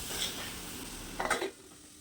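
A fish curry with coconut milk gets stirred in a pot, soft scraping and sloshing with a short clatter of a spoon against metal near the end.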